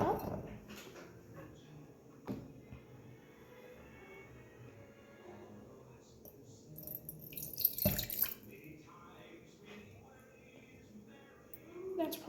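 Water for homemade slime is measured out and poured near the mic, a soft splashing and trickling that sits under a speaking voice, with a brief louder splash midway.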